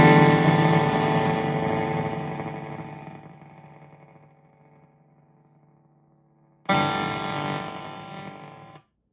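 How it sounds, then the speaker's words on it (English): A faulty vintage 1976 Marshall Super Lead guitar amplifier sounds a distorted, buzzy sustained chord that slowly decays, then a second loud chord strikes and rings before cutting off abruptly. "This is a 1976 Marshall Super Lead, and it sounds like this."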